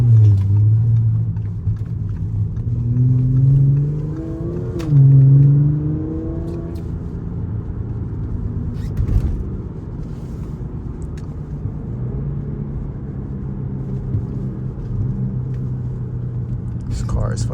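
Supercharged Audi engine droning and revving from inside the car while driving, with deep rumbling swells, a couple of rising revs early on, then a steadier cruising hum, loud throughout and close.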